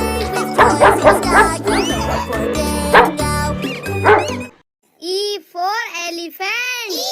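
A cartoon dog in a children's animated phonics alphabet song barks in a few short, bright yips, heard alone after a stretch of upbeat music and singing.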